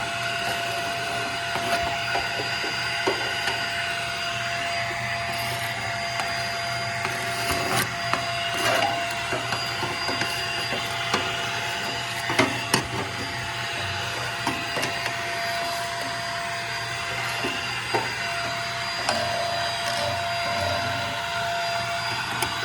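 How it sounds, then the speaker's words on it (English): A steady vacuum cleaner drones throughout while cleaning a Harmon Absolute 63 pellet stove, with scattered clicks and rattles of debris being sucked up as the nozzle moves around. "I'm just gonna give it a good vacuum."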